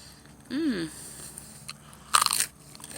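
A single sharp, crunchy bite into a raw vegetable freshly harvested from a tower garden, close to the microphone, following a brief vocal sound.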